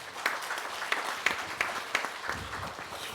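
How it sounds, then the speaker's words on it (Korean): Light, fairly quiet applause from a small group at a conference session, a steady patter of claps with a few sharper individual claps standing out. "우리 고생하시는 우리 오지사님을 위해서 격려 박수 부탁드리겠습니다"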